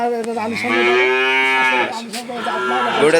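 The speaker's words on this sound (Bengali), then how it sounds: "এবার সিরিয়ালের দ্বিতীয় গরুটা দেখতে পাচ্ছি" A cow at a cattle sale moos loudly and close, one long drawn-out call followed by a second shorter moo, with no talk over it.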